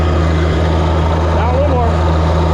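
A tractor engine runs at full throttle while plowing, giving a loud, steady, continuous drone with a constant low hum throughout.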